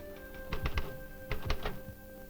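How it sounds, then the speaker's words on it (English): Automatic typewriter typing out reports in a tank-engineering setting: two quick bursts of three or four sharp mechanical strikes each, close and fairly loud over a steady background hum. "types out its reports on an automatic typewriter"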